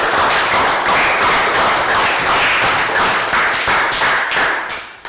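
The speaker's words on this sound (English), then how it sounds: "So well done guys, round of applause" A classroom of students applauds, a dense burst of many hands clapping loudly and steadily for several seconds before tapering off at the end.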